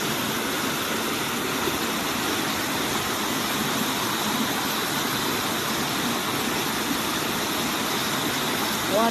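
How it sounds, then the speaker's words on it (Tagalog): A waterfall in Chai Wan Park sends up a steady, loud, unbroken rush of water that stays even throughout, with no voices. "Waterfall."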